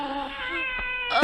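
A human voice imitating a cat's drawn-out yowling call on an evening radio show, one wavering, nasal whine lasting about a second that ends in a sharper rising burst.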